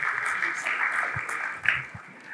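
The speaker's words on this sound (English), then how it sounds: "Can we have a round of applause for them, please?" An audience at a business seminar on HR and manpower budgeting applauds steadily for about two seconds, a dense, even clatter of many hands that swells briefly near the end before easing off.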